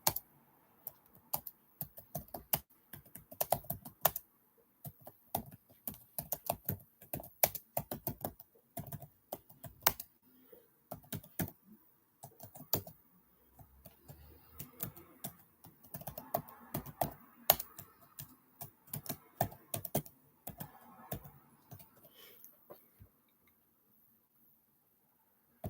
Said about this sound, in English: I'm typing my name on the chat box